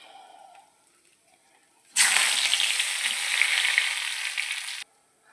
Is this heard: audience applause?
no